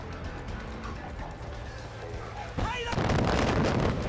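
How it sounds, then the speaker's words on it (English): Mortar fire bursts out in the Far Cry 5 video game, a sudden loud boom partway through followed by continued heavy blasts and gunfire over a constant rumbling battle backdrop, with a voice speaking. "That's a mortar."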